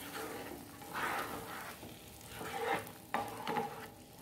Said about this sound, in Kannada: ನೋಡಿ, ಒಳ್ಳೆ ಫ್ರೈ ಮಾಡ್ಕೊಳ್ಳಿ